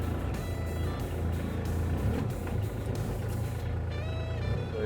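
A CORVUS DX4s diesel utility vehicle in four-wheel drive and low gear climbs over steps and logs, its engine droning steadily and close, with clunks and a rising whine near the end.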